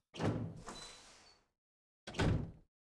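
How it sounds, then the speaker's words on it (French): In the video game Resident Evil Remake, a heavy door swings open with a creaking scrape, then a second loud thudding burst follows after a short silence, with no voices. "La porte s'est ouverte là, j'ai pas aimé."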